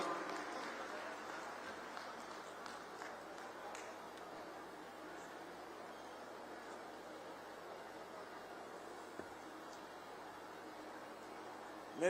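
Audience applause at a state-level International Women's Day function welcoming Haryana Chief Minister Manohar Lal, a steady sustained wash of clapping from a large crowd held at an even level throughout.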